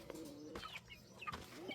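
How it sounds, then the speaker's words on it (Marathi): Domestic pigeons in a home loft give soft, low cooing calls a few times in a short, quiet stretch, with faint chirps mixed in. "आता दाखवतो मी वरती कबूतर माझे किती आहेत"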